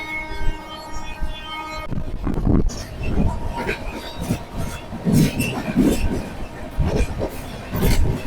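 Jharkhand Sampark Kranti Express running near Pandit Deen Dayal Upadhyaya Junction, heard from inside the train as a loud, steady rumble with rhythmic wheel clatter and faint squeals, plus a brief tonal hum at the start.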